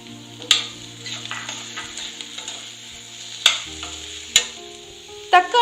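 Onions and tomatoes frying in a pan for an onion-tomato chutney, with tamarind added, giving a steady sizzle and sharp utensil knocks against the pan as the mixture is stirred.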